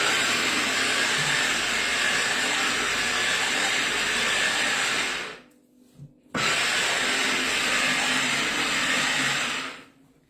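A food processor chopping Caesar salad ingredients with garlic whirs loudly and steadily, pauses briefly for a short pulse, then starts again at full power before cutting off near the end.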